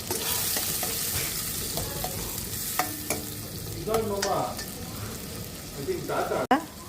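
Onion and tomato masala fries in a pan with kasuri methi and hing added, a constant close sizzle broken by scraping stirs, while a voice talks briefly.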